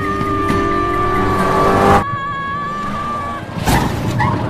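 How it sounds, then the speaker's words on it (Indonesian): Car racing off at high speed in a tense film chase, a loud sustained engine roar with a whining tone that cuts abruptly, then tire and road noise with a sharp burst near the end. "mereka pun memacu mobil tersebut dengan kecepatan tinggi"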